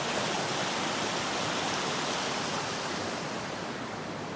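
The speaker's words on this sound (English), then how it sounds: "Nice little river here." A small river beside a roadside campsite rushes in a steady, broadband wash, close and continuous, with no voices or other sounds over it.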